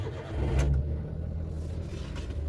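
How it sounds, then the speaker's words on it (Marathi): A 2020 Maruti Alto 800 engine cranks briefly and catches, then settles into a steady low idle, close by and fairly quiet, with no one talking. "कार स्टार्ट करून घेऊया."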